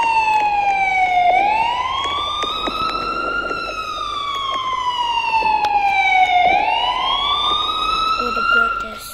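Ambulance siren in the Roblox emergency-services game, a loud wailing tone sweeping slowly up and down in repeated cycles over a low rumble of vehicle noise.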